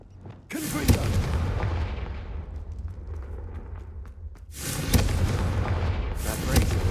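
A Confringo blasting spell explodes in the video game Hogwarts Legacy, with a sharp burst and a rumbling boom that fades, then a second loud blast with a sustained roar and crackle, under faint game sounds.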